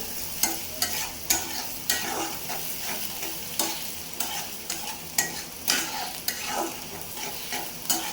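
Spinach being cooked quickly in a pan, with sizzling frying under repeated scraping stirs from a utensil, close and moderately quiet, with no talking.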